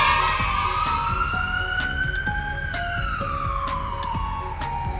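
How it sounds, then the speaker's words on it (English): An ambulance heads out onto the road with its siren gliding slowly up and then back down in one long, loud sweep over a rumbling engine. "An ambulance quickly hit the road."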